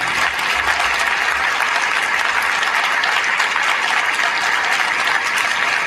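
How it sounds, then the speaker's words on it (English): Dense, steady applause from a gala audience fills the room, loud and close throughout with no pauses or speech over it. "Please join me in a round of applause"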